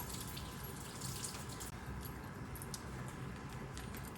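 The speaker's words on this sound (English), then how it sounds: "let me let the water run a bit" Hot water runs steadily from a tap in a lab setting, a continuous broadband hiss and splash with faint drips, close and unbroken throughout with no talking.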